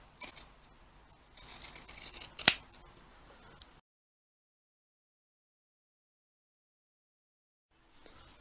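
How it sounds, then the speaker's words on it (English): Pinking shears snip through outer fabric for a bucket hat, a short cluster of crisp cuts with a sharp metallic clack in the middle, then silence. "And use your pinking shears. Pink this one also."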